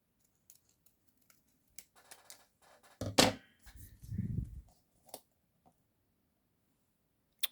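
Scissors snip through paper while a candy wrapper die set is being crafted, with a sharp crisp cut followed by a softer sliding cut among faint clicks and handling sounds, close and quiet.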